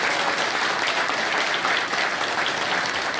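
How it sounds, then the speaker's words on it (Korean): A hall full of people gives sustained, dense applause at an inauguration ceremony for a Buddhist association's president, steady and loud throughout with no pauses. "큰 박수"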